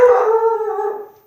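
A dog gives one close, loud, drawn-out howl with a short bark at the start, the tone wavering and fading away over about a second, with no talk over it.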